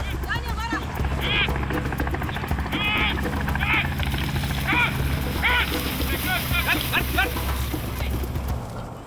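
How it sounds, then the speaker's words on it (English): A helicopter drones steadily with rotor thumping while someone talks over it, and bird chirps come and go in the background. "The helicopter's gone out and brought the first amount of game in."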